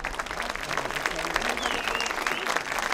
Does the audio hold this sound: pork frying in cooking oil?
no